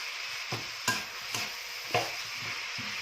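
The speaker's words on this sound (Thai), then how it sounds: "เห็ดผัดเลยเพื่อนๆเห็ดผัดเลย" Leftover mushrooms stir-fried in a pan in a rural home kitchen: a low, even sizzle under intermittent sharp scrapes and taps of a utensil against the pan, roughly five distinct strokes, quiet and close, with no talking.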